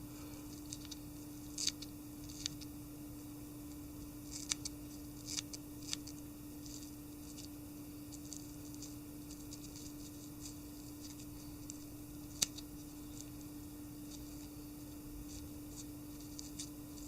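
Scissors snipping through deer hair, trimming a rough crab shape for a McCrab permit fly, heard as faint, quiet clicks and cuts scattered over a steady background hum, with no talking.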